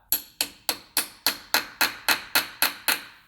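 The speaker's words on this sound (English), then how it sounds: "get yourself a hammer and do the tap, tap, tap" Eleven quick, evenly spaced metallic taps of a hammer on an aluminum casing on a 2016 Subaru Impreza CVT transmission, bright and ringing, close by with no talking.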